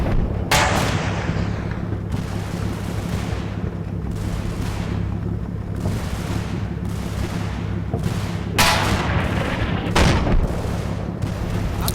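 Tank cannons boom repeatedly in a Combat Mission Normandy battle, with Wolverine tank destroyers firing on a Panther in France 1944. The loud, sharp blasts come at irregular intervals over a constant rumbling backdrop.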